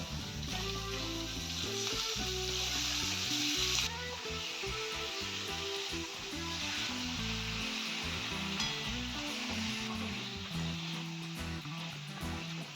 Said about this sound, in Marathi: मिठामध्ये आणि हळदीमध्ये थोडं फ्राय करून घ्या, चव छान येते।